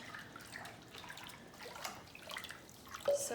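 Paper pulp of shredded mulberry wood being stirred into water for Xuan paper, giving faint, soft sloshing and trickling splashes with a slightly louder swirl near the end.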